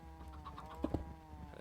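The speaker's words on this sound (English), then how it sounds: "It sounds like a chicken just died." A chicken in Minecraft gives a brief hurt squawk as it dies, with short clucking bursts over a steady background hum.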